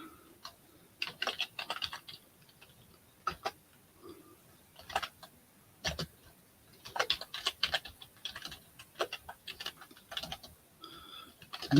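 Fingers type on a computer keyboard in irregular runs of quick, light clicks with short pauses between bursts, close and fairly quiet in an otherwise still room.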